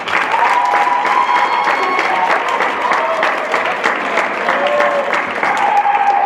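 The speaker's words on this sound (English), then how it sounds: "Let's give her a big round of applause." A high school assembly audience gives a big round of applause for a student who made state in spring sports: continuous, full crowd clapping with scattered cheers, loud and sustained throughout.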